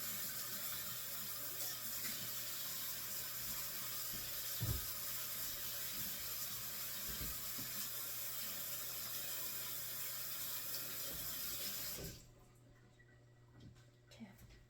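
Kitchen tap water runs steadily into a sink while zucchinis are rinsed, a continuous close hiss with faint clunks, cutting off near the end.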